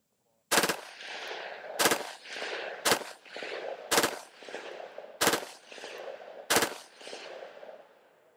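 A .17 HMR rifle fires six sharp, loud cracks, spaced roughly a second apart, each with a short ringing echo tail outdoors.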